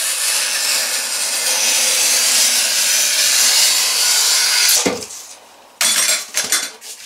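Scraping knife cut through thin PIR insulation board along a fold, a steady hissing rasp for several seconds that stops abruptly, followed by a few short rustles and knocks.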